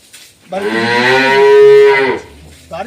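A dairy cow gives one long, loud, close moo that rises and holds steady before fading. Quiet stretches come before and after it.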